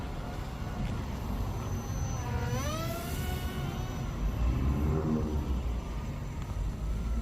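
An SG F-22 Raptor remote-control model plane's motor whines overhead, its pitch sweeping up then down as it passes, with a low wind-like rumble throughout.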